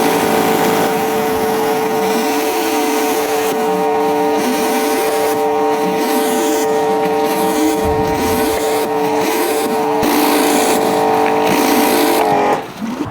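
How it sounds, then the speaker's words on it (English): A V-Tuf V5 pressure washer runs with its patio cleaning tool, a loud, steady motor drone with a strong tonal hum and hissing spray that holds throughout before easing off at the very end, close by with no talk. "So now I'm going to try V-Tuf's standard patio cleaning tool."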